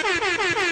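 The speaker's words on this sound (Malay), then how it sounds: "Ada Undertaker punya horn." A loud air horn blast like the one in the Undertaker's wrestling entrance, a brassy sustained tone pulsing in about four quick repeated swells, close and alone.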